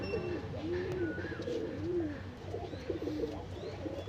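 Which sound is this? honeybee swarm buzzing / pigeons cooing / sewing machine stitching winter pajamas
pigeons cooing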